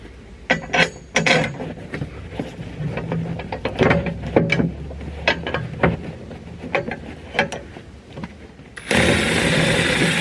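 A cordless impact wrench spins a bolt in short bursts while trying to find the hole during a GMG harness bar install on a 991.2 Porsche GT3 RS. Sharp clattering, ratcheting bursts come close and loud, followed by a steady whir near the end.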